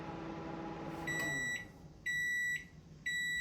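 A Black+Decker microwave oven finishing a chicken defrosting cycle, with a low hum that stops and is followed by three even, high electronic beeps about a second apart. The beeps are close and clear, with no talking.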